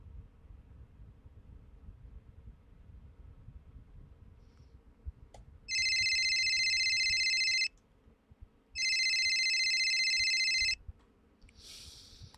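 A telephone rings in two long electronic bursts on a direct line to the moderator at an NHL playoff hockey game, loud and steady against a low ambient rumble, with no talk.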